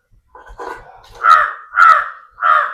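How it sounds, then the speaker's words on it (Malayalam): A crow caws close by near a dog's food, three loud, harsh caws in a steady rhythm, preceded by a few softer calls and no talk. "അവിടെ ഫുഡ് കഴിക്കുമ്പോ അവിടെ കാക്ക വന്നിരിക്കും ഗൈസ്."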